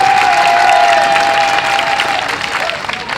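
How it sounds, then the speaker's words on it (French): A crowd at a campaign rally of transporters, traders and artisans claps for the president of the Assembly. The applause is loud and sustained, with a faint steady tone running beneath it and a light rise of cheering. "Ça demande des applaudissements plus nourris que ça pour le président de l'Assemblée."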